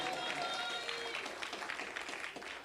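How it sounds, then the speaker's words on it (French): A church congregation claps and cheers for a sustained stretch, dense and fairly loud, with voices and some music mixed into the applause. "Acclame très fort pour la gloire de Dieu"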